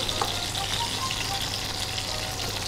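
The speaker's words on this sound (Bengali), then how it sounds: "আমাদের ভাজা চলছিল" Kachki fish fritters wrapped in pumpkin leaves fry in hot oil, making a loud, continuous close sizzle that holds steady throughout.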